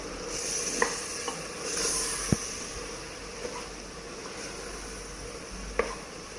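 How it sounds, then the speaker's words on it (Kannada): Turmeric being stirred into mutton curry masala in a pan: a low steady sizzle under scattered scrapes and knocks of a spoon against the pot, close by, with no voices. "ಸ್ವಲ್ಪ ಅರಿಶಿನ ಹಾಕಿ ಮಿಕ್ಸ್ ಮಾಡಬೇಕು"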